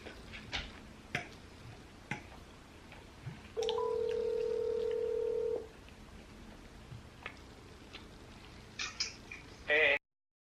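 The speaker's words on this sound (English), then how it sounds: "I'm gonna go on a phone call with my boyfriend" Scattered soft ticks and taps lead into a steady electronic tone lasting about two seconds, like a phone call being placed, followed by more faint clicks and a short beeping burst at the end.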